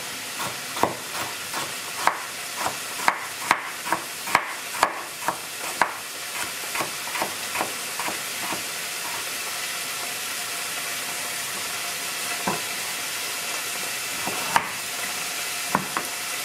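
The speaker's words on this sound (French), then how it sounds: "Je l'ai fait revenir dans de l'huile d'olive sur une casserole." Carrot pieces fry in olive oil in a saucepan with a steady, close sizzle, punctuated by a quick run of sharp stirring clicks and scrapes early on and a few more scattered later.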